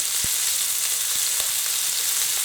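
Cottage pie filling browns in a frying pan with a loud, steady sizzle, broken by a few soft clicks and taps from stirring; no one speaks.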